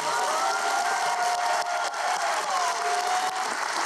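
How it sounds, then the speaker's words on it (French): An audience applauds at a volunteer tribute evening in Rouyn-Noranda, giving a continuous, fairly loud spread of clapping with a faint tonal hum running underneath. "j'aimerais qu'on l'applaudisse un peu."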